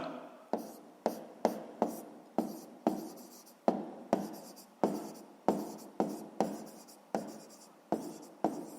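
A pen moves over paper during a sixth-grade math exercise on map scales, making a steady series of scratchy strokes with brief pauses between them, close and alone.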